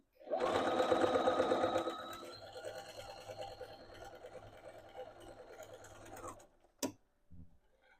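A sewing machine runs a straight stitch on a dress in one continuous burst, loud at first and then steadier and softer, stopping with a sharp click near the end.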